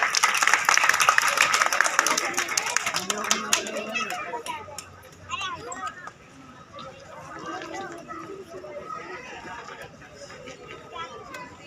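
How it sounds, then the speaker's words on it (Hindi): Audience at a Ram Leela stage performance for Ram Navami claps in a loud dense burst at the start, fading within a few seconds into crowd chatter and children's voices. "तालियां बजाते रहो भाई"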